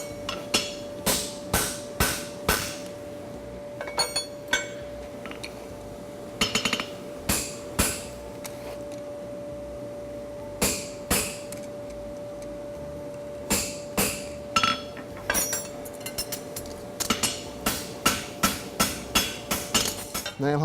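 A bob punch is hammered into a forged egg bar horseshoe, sharp metallic strikes ringing at close range in irregular bursts and rapid runs, with a sustained steel ring humming underneath.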